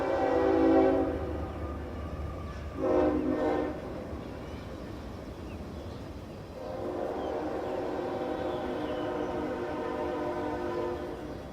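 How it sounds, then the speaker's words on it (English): A train passes close by, its horn blaring in loud, drawn-out blasts over a steady rumble of rolling rail cars that carries on after the horn stops. "Ladies and gentlemen, you're going to hear a train go by here."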